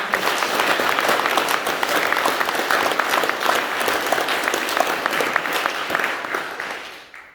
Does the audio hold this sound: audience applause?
yes